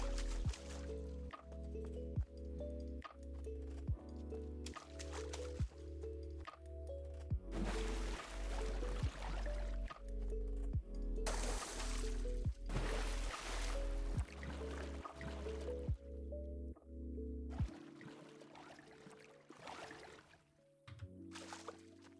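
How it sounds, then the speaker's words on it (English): Wet, squishy drips and splashes from the Path of the Shell video game, with repeated droplet plinks over a steady, tonal game soundtrack, close and moderately loud throughout. "Like all the various splashing sounds you have to make."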